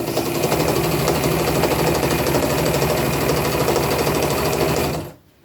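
A sewing machine stitching shirt fabric runs in a fast, steady mechanical chatter close by, then stops abruptly near the end.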